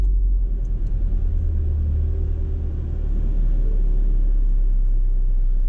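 A Fiat Cronos with the 1.3 Firefly engine and manual gearbox, from 2019, idles steadily just after starting, giving a close, continuous low rumble with no talk over it.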